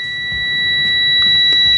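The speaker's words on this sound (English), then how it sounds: "it's great that it beeps, but does it stay a constant beep when you put the leads together?" A UNI-T UT39E+ multimeter in continuity mode with its test leads touching gives a loud, steady, high-pitched electronic beep that holds unbroken for the whole moment.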